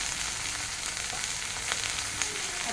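Ginger and olive oil hiss in a frying pan for pabda fish curry, a steady close sizzle with faint crackles and no talking.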